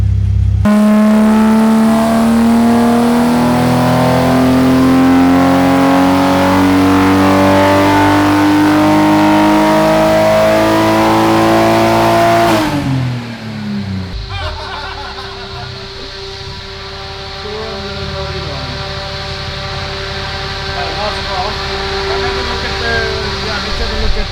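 A Toyota Supra engine on a dyno drones loudly and steadily, its pitch climbing smoothly for several seconds before dropping off to a lower idle that rumbles on to the end.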